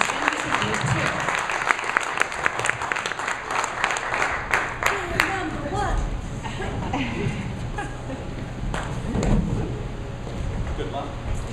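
An audience at a city council candidate debate in Bend applauds, with scattered claps of uneven density. Murmured voices and some shuffling and bumping sounds run underneath.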